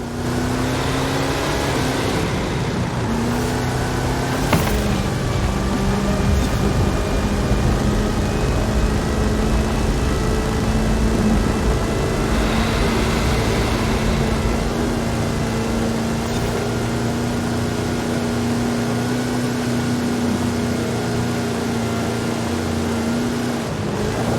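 A huge-wheeled truck with a 540 cubic inch Chevrolet engine and 66-inch Terra tyres drives in Forza Horizon 5, giving a loud, continuous engine drone with small pitch shifts, steady throughout with no talk.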